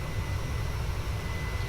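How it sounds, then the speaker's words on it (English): A steady, droning engine roar from a Boeing 737-800 in Microsoft Flight Simulator, holding a constant low rumble with a faint high whine throughout and no talk. "It's a 737-800."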